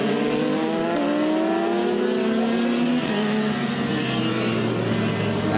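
Modern single-seater race cars of 1,000 to 1,600cc, running on slicks with wings, circle the Circuit of the Americas track in a vintage racing event. Their engines drone loudly and continuously, with pitch shifting and rising as the cars accelerate away.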